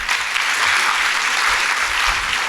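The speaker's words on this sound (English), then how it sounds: "we'd like to limit the applause, please" A town meeting crowd claps in a steady, dense burst of applause that fills the room, loud and sustained for a couple of seconds.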